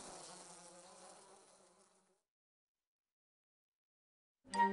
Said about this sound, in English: The bees quickly departed.